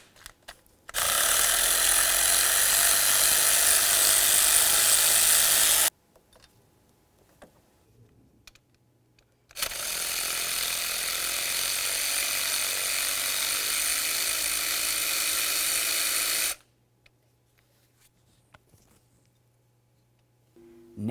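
Two long bursts from a power tool spinning a socket to remove the water pump bolts on a 2000-2005 Buick LeSabre engine, loud and steady, separated by a quiet pause and followed by near silence.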